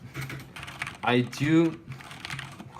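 Keys clack on a Corsair K70 Rapidfire mechanical keyboard with 1.2 mm actuation switches, quick close typing around a spoken word in the middle.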